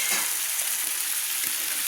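Raw sweet pumpkin, washed and tipped into a hot pan, sizzles steadily while being stirred, with soft scraping stir strokes rising out of a constant bright frying hiss, close and fairly loud, no voices.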